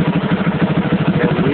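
A motorcycle engine with a Rextor CDI ignition idles close by in a steady, even, pulsing putter during ignition timing adjustment, alone without any talk.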